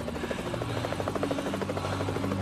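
Steady rhythmic thudding of helicopter rotor blades, a continuous chop with a low engine drone, moderately close.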